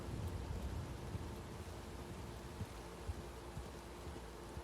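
Rain and a storm in the video game GTA 6: a faint, steady rain hiss runs throughout over a low, continuous rumble of thunder, with no voices.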